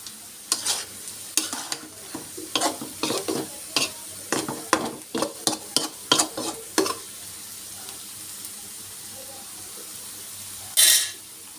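Spatula scrapes and clatters as yardlong beans, carrot and shrimp are stirred in a frying pan, a quick irregular series of close scraping strokes over a soft sizzle, then a pause and one final scrape.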